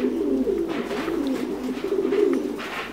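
Thai Titan meat pigeons in the laying season coo nearby, a soft, throaty rolling coo repeated in overlapping phrases over a quiet coop background.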